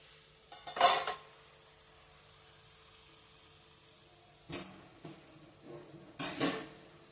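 Metal lid set onto a pan of bitter gourd bharta on a home stove: a few clinking, clattering metal knocks spread apart, moderately close, with quiet pauses between.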